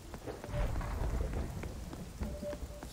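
Steady rain pours with low rumbling thunder rolling underneath during a storm in The Cycle Frontier video game, a dense, continuous wash of drops and distant booms with no talking.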